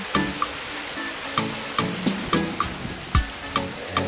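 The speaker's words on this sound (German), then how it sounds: "diese Wassermassen zu sehen, die hier immer noch aus dem wirklich kargen Fels herausplätscherten" Water splashing and trickling out of barren rock on the Naukluft Water-Kloof Trail in Namibia, a steady close rush broken by a string of sharper splashy drops at irregular intervals, with no voices.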